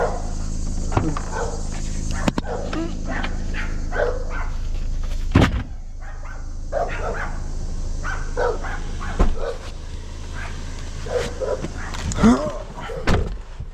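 Several dogs, including two small ones, bark in a residential street near dumpsters, yapping in scattered bursts at moderate distance, with someone talking and occasional thuds and clatter.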